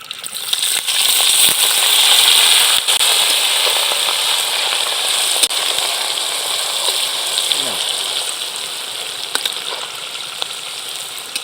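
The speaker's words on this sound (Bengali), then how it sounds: "পেঁয়াজ আদা বাটা শুকনো জাল রসুন কাঁচা লঙ্কা একত্রে ঢেলে দিলাম" Onion, ginger paste, dried chili, garlic and green chili hit hot oil in a pan during village cooking, giving a steady, fairly loud sizzle that hisses on evenly with small pops.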